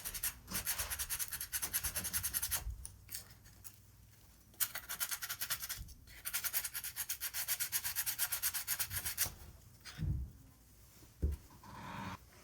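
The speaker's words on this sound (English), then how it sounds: "we'll take a sanding block and remove any rough edges from the holes." A sanding block rubs rough edges off drilled holes in a potato cannon part, quick rhythmic back-and-forth scrubbing strokes in bursts with short pauses, close and fairly quiet, no talk.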